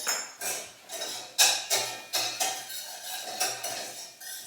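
A utensil scrapes and knocks around a pan of rice, making about a dozen rhythmic strokes, each a close, clattering scrape, with no talking.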